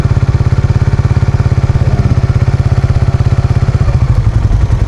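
A Raider Fi motorcycle engine idles close by, with a loud, rapid, even putter that wavers slightly near the end. No voices are heard.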